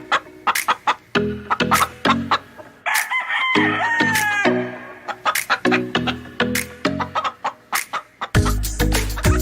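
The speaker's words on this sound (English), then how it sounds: "And they're just chickens." Several chickens cluck in loud, choppy bursts while a rooster lets out one long crow in the middle, with more clucking and a sharp burst at the end; no one speaks.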